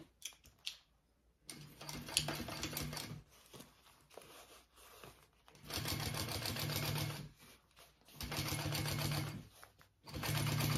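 A sewing machine top stitching along a fabric bag panel, running in several bursts of steady mechanical whirring separated by short pauses, close and moderately loud.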